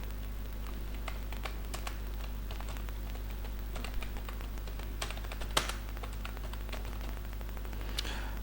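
Steady typing on a computer keyboard while entering text into a Microsoft Word document, irregular clusters of light key clicks over a constant background hum, close and moderately quiet, no voices.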